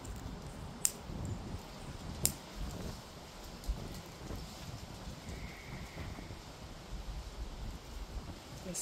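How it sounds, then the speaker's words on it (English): Wind buffets the microphone in steady low gusts outdoors, with a few sharp clicks and knocks rising above the rumble. "It's so windy out."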